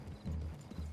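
Horse hooves clopping in the video game Red Dead Redemption 2, a few soft muffled steps over a low rumble, faint and brief.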